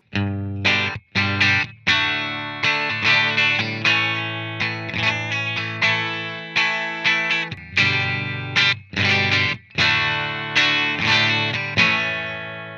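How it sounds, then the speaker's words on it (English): Electric guitar played in chords and short phrases through a Peavey Valveking 20 MH valve amp's clean channel, with bright, slightly driven tone and rhythmic stops between strums, loud and up close. "Let's listen to that on the amplifier's clean channel."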